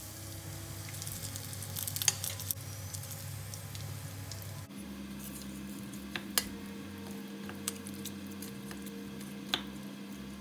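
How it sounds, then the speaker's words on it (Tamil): Spices tempering in hot oil for a Sri Lankan eggplant and tomato curry, a quiet steady sizzle with small crackles and pops throughout, faint and close with no talk. "இப்போ இந்த கறிக்கு நான் கொஞ்சம் தாளித்து போட போகிறேன் வாசத்துக்காக"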